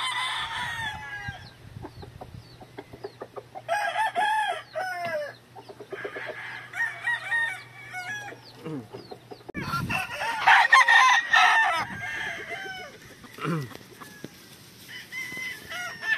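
A pure yellow-legged hatch gamefowl brood stag crows and clucks close by, giving repeated loud calls and cackles with short pauses between them and a low hum in the background.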